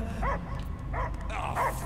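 A dog barks in the video game Guardians of the Galaxy, three or four short muffled barks and yips spaced apart over a low ambient hum, at moderate distance.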